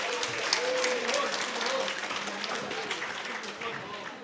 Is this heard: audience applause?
yes